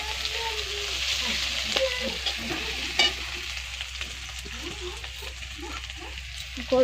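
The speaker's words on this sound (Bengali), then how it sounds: "পেঁয়াজটা ভাজা হয়ে গেল" Onions fry in oil in a pan for a home-cooked curry, giving a steady broadband sizzle with occasional stirring scrapes and clatter, and a sharp clack near the middle.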